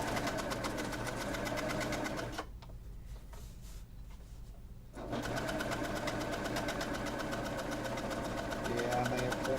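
Close, steady mechanical stitching from a Husqvarna Viking Amber Air S|500 sewing machine sewing fabric, a rapid even rattle that stops for about two seconds midway and then resumes.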